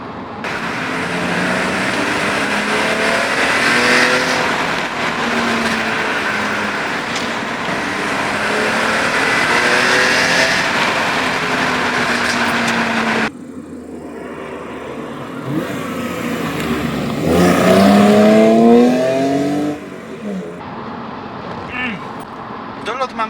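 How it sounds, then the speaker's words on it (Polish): A BMW E46 engine with a quiet exhaust revs hard at high rpm, loud and close, with the pitch climbing and falling; a voice talks over the first half. "słychać silnik na wysokich obrotach, a nie wydech"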